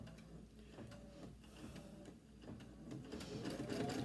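An embroidery machine stitches folded fabric squares onto an Anita Goodesign heirloom quilt, a quiet, steady mechanical whirring with fine rapid needle pulses, no voices.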